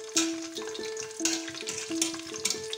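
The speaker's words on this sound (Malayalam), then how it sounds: "ഇനി അതിലേക്ക് മുന്തിരി, അണ്ടിപ്പരിപ്പ് എന്നിവ ചേർത്തൊന്ന് വരച്ചെടുക്കണം" Raisins and cashews fry in ghee and coconut oil for biryani, giving a close, bright sizzle broken by regular clinks of a stirring spoon, with a steady tonal hum underneath.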